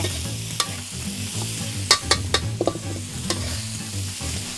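Shrimp stir-fried with chili and salt in a pan, giving a loud continuous sizzle broken by a few sharp scrapes and clacks of the utensil against the pan, with no talking.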